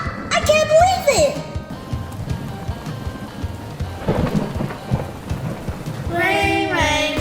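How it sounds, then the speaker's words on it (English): Steady rain pours with low thunder rumbling underneath, a dense, continuous wash of noise. A voice speaks at the start and again near the end, cutting through the storm. "Rain, rain, go away, come again another day."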